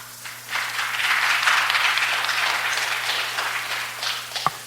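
An audience at a city Planning and Land Use Management Committee meeting breaks into applause that swells quickly, holds steady, then tapers off, ending with a single sharp knock.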